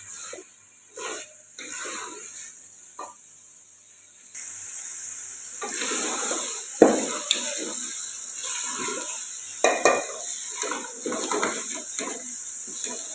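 Kachnar flowers being fried and stirred in a pan for kachnar gosht, a steady hiss of sizzling with intermittent scraping and stirring clatters, close and moderately loud.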